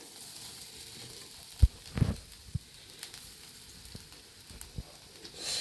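Grated coconut fries in a pan on low heat, a faint soft sizzle with scattered light scraping and tapping from stirring, quiet and close.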